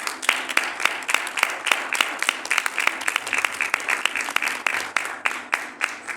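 Steady, full applause from an audience at a journalism event welcoming an author and reporter, many hands clapping loudly and continuously with a few sharper claps standing out, no talking.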